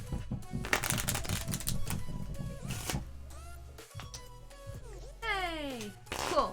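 Cards from the Splendor board game, especially the green development cards, shuffled by hand indoors, a dense close riffling clatter for several seconds followed by lighter flicks and ripples, with people talking faintly around it.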